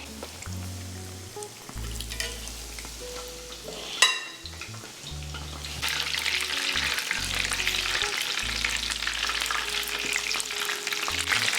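Homemade copycat McDonald's chicken nuggets fry in hot oil, a close, continuous bubbling sizzle with low hum beneath, a sharp clink from a spoon midway, then the crackle swells brighter and louder as more pieces go in.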